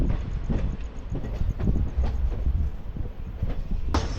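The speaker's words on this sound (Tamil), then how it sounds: "இப்போது ஷொர்ணூர் ஜங்ஷனில் இருந்தும் இந்த ட்ரெயின் ஸ்டார்ட் ஆகிடுச்சிங்க" An express train pulls out of Shoranur Junction in Kerala, with rhythmic wheel clatter over rail joints and a rumbling carriage roar, sharp metallic clicks repeating close by, and a bright squeal near the end.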